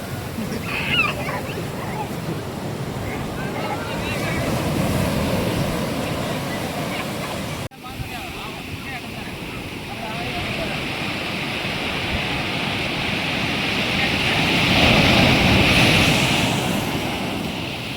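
Sea waves wash against the shore during a Ganesh immersion in Gadhada, a steady, loud roar of surf mixed with wind buffeting the microphone, with faint voices of a crowd beneath.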